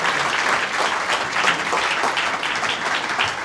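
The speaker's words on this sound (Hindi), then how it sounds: "एक बार जोरदार तालियां" Dense, continuous applause from a large audience at a motivational speech, steady and loud throughout with no individual claps standing out.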